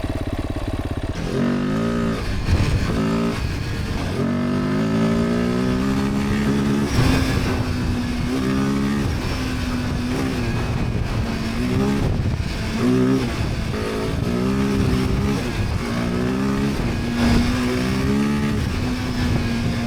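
A Kove 450 off-road motorcycle accelerates along a dirt trail, its engine revving up and down in repeated rising surges, loud and close throughout.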